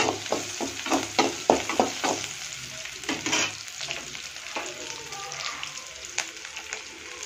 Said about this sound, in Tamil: வெங்காயம் வந்து நல்லா வதங்குது